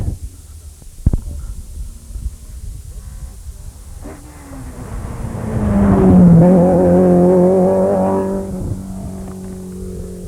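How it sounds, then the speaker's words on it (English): A rally car at the Cork 20 Rally sweeps past, its engine rising from faint to a loud near roar with revving gear changes, then fading; earlier knocks and rumbles precede it. "Number 8 just gone whizzing by, Davy Evans."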